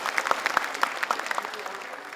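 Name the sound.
audience applause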